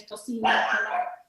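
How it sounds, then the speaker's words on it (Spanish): A single close dog bark, loud and sharp, preceded by a brief whine-like yip. "Ese es mi perro, espera."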